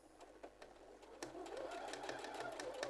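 Sewing machine stitching a dart in fabric, a quiet steady whirring with rapid needle clatter that picks up speed, heard alone.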